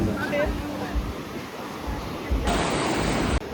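Ocean surf at Baga Beach in North Goa, a broad continuous wash of waves and wind rumble that swells louder near the end, with someone speaking over it.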